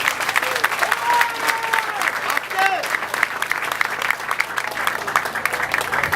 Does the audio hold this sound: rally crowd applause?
yes